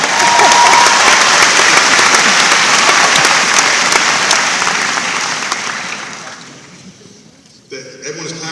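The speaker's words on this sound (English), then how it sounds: "Everyone is clapping because they wish they were as smart as you coming in here." Loud, dense applause from a lecture audience at Purdue University rolls on for several seconds, then gradually thins and dies away before a speaker's voice returns.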